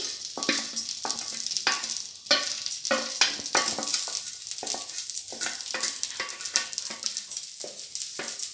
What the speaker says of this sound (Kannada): ಇದನ್ನು ಚೆನ್ನಾಗಿ ಫ್ರೈ ಮಾಡಿಕೊಳ್ಳಬೇಕು